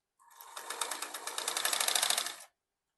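A sewing machine runs in one steady burst of rapid stitching lasting a couple of seconds while sewing a kurti with lace, close and fairly quiet, with no talk.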